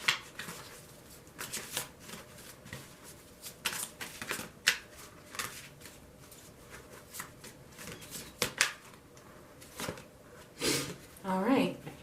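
Oracle cards are shuffled by hand in repeated papery riffles and soft slaps, close and moderately loud, with a quiet voice talking alongside.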